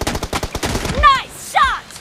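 Gunshots from a mobile shooter game ring out as two quick synthetic bursts near the end, following a stretch of rhythmic music-like pulses, moderately loud and close.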